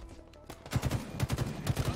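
Rapid video game gunfire, bursts of repeated shots in quick rhythmic succession at moderate loudness.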